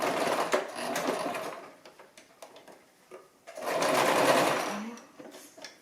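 Brother LX-3125 sewing machine stitching a seam, two close bursts of rapid mechanical whirring and needle clatter separated by a short pause.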